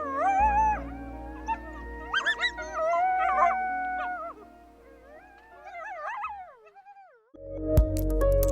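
Wild animals howl at night in long, wavering, overlapping cries, several voices rising and falling together, then fading before a brief noisy burst near the end.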